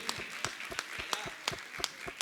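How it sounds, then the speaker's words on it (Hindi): Sparse, evenly spaced claps ring out at a Jain religious question-and-answer gathering with a monk at Gunayatan, Shikharji, each sharp clap distinct over a soft roomy background. "मैं चाहूँगा दोनों हाथ उठा के जोरदार ताली बजाएं इस युवा साथी के लिए।"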